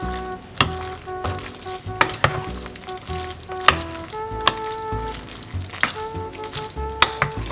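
Carbonara pasta being tossed with egg in a pan on an induction cooker, with repeated sharp utensil scrapes and clanks over a quiet sizzle and a steady high electronic hum.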